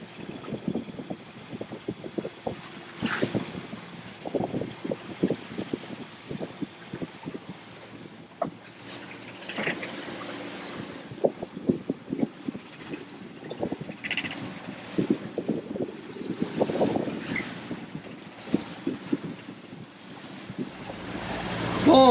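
Wind gusts and waves slap around a sailboat motoring through the night in about fifteen knots of wind, an irregular rush and splash with wind buffeting the microphone and no voices.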